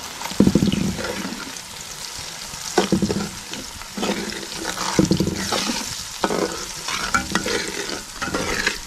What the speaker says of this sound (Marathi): हां असं भाजून व्यवस्थित घ्यायचं आणि असा हा तुपात फिरवायचा, गॅस कमी करायचा।